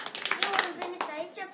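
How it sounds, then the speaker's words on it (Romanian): Applause from an audience for a child actor at a children's theatre, a short burst of dense, close clapping with a few louder claps. "Vă aplaudă pe Robert"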